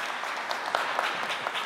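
Audience applause at a Guardia Civil recognition ceremony, steady dense clapping from a crowd, sustained evenly throughout with a few sharper individual claps standing out.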